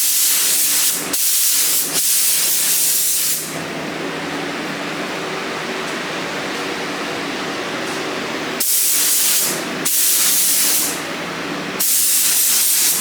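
A spray gun lays sealer on a car body in bursts: loud broadband hissing in short blasts near the start, a long steady spray through the middle, then several more separate blasts toward the end, with no voices.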